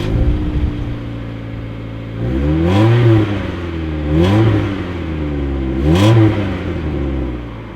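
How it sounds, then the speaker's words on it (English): A Mazda MX-5 Mk1 with its stock exhaust idles with a smooth burble, then is revved three times, each blip rising and falling back to idle, loud and close. "let me play you a clip of how a standard exhaust sounds"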